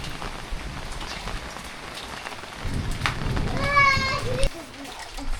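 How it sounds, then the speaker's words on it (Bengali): Rain falls steadily on a village, a constant hiss of drops on surfaces, while people, including a child, talk over it. "বৃষ্টি পড়তেছে, বৃষ্টির দিনে খিচুড়ি রান্না করো?"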